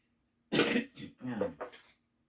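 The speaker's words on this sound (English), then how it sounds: "I was smelling perfume all day, and it has just got me coughing." A few close, harsh coughs in quick succession, fading into a throaty clear at the end, with silence before and after.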